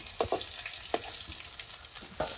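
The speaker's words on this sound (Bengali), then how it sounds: "মা এদিকে প্রথমবার মাছ ভাজা মনে হয়ে গেছে" Fish frying in oil gives a close, crackling sizzle, punctuated by several sharp spatters and pops over a short stretch.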